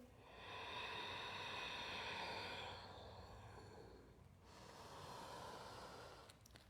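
Steady, audible yoga breathing in downward facing dog during an Ashtanga vinyasa flow: long, breathy exhales and inhales, close and fairly loud, alternating in a slow rhythm with no talking.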